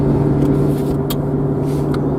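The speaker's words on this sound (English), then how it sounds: "Love muscle cars, dude." A muscle car's engine rumbles past at close range on a stormy road, a steady deep drone with faint hiss and a couple of brief higher bursts.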